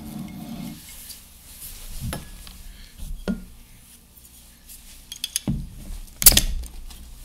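Opening a can or bottle of Southern Tier Live pale ale: scattered clinks and handling knocks lead to a sharp hiss-and-crack burst near the end, close and fairly loud.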